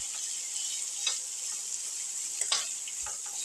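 Onion and shallots sauté in a pan with a quiet, even hiss and a few brief stirring clicks and scrapes, close and without voices.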